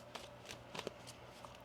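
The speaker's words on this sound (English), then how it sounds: "One more shuffle." A deck of tarot cards is shuffled softly by hand, giving a few faint, brief riffling bursts and light papery taps spread across a quiet background.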